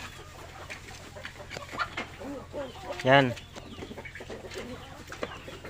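Laying hens cluck inside a chicken house, with soft scattered clucks throughout and one sharp loud squawk in the middle, close by. Someone speaks briefly over them.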